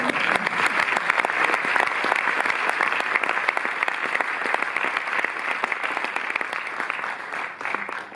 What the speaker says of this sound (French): Soyez gentils, applaudissez Humbert Balzan.